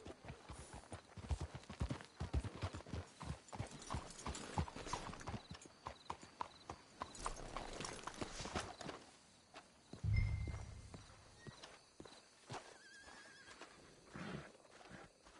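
Horses in a PS4 video game clip-clop steadily along at walking pace, with a clear whinny rising out of the hoofbeats partway through and more walking afterward.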